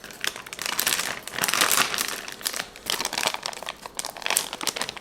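Plastic food packaging crinkling and rustling in bursts as the package is handled and put back, close and moderately loud, with no voices.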